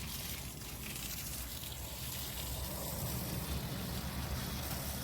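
Irrigation water runs to grapevine plants in a vineyard, a constant broadband rushing flow, fairly close and unbroken, with no voices over it.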